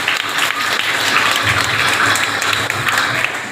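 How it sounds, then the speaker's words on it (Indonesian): Students in a high school hall applaud together, a loud, dense and steady burst of clapping that carries evenly across the few seconds, with a faint low murmur beneath. "Tepuk tangan dulu dong untuk Joni."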